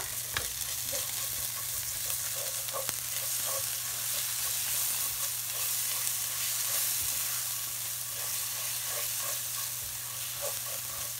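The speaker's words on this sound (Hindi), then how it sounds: "और इसे अच्छे से भून लेंगे।" Drumstick curry with mustard powder fries in a pan, an even, moderately loud sizzle running throughout, with light intermittent taps and scrapes of a spoon stirring, over a low steady background hum.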